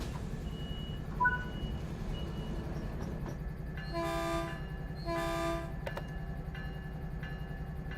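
Caltrain train in Train Sim World 3 preparing to depart, with quiet electronic beeps, a low steady engine rumble and two loud multi-tone horn blasts near the middle.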